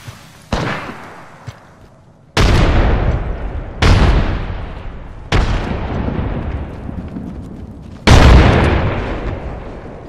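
Grenade explosions in the Apex Legends video game: five loud, sharp booms at irregular intervals, each followed by a rumbling decay.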